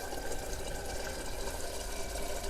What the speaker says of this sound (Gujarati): હવે આપણે પાણી નાખી દઈએ એમાં